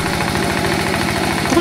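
A tractor working muddy paddy soil runs with a loud, steady rhythmic chugging engine pulse, close and continuous, with a faint voice briefly at the end.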